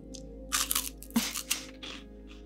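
Crisp vanilla sugar wafers with chocolatey cream are bitten and chewed up close, giving several sharp, dry crunches in irregular bursts over a faint quiet background.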